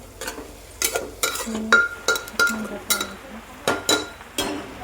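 A metal spoon stirs browned onions in a cooking pot for chicken biryani, with sharp irregular clinks and scrapes against the pan over a faint background.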